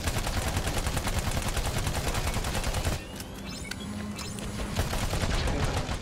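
Rapid automatic gunfire from the video game Battleborn rattles in a dense, loud burst for about three seconds, then gives way to sparser shots and clatter.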